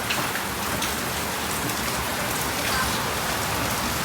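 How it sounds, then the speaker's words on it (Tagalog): Heavy rain pours steadily during a storm in Manila, a dense, loud, unbroken hiss of drops pelting surfaces close by, with no pause across the whole stretch. "Ayan, lakas ng ulan."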